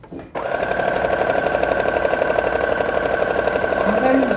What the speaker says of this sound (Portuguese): Porque essa máquina às vezes arrebenta um fiozinho ou outro.